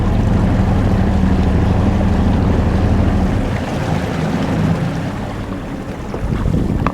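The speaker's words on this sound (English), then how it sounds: "Shut that engine off." Boat engine running on the water on a catfish jug-fishing trip: a loud, steady low drone with a harmonic hum that eases partway through as the engine drops to a lower idle, with wind buffeting the microphone.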